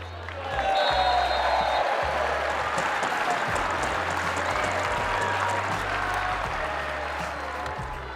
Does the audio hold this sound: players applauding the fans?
yes